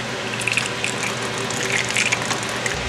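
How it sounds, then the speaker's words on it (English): Solvent squirts from a wash bottle into a pail during cleanup, producing a continuous gushing, splashing liquid sound, close and fairly loud, with small spatters and bubbling throughout. "We're gonna take our wash bottle here into a pail. We're gonna clean this out."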